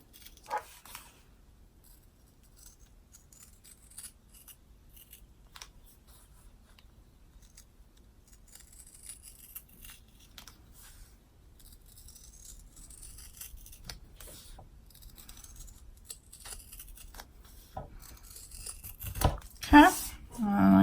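Scissors snipping fabric for a key fob appliqué, a run of small, faint cuts and rustles that grows busier and louder near the end, with a brief burst of handling noise at the close.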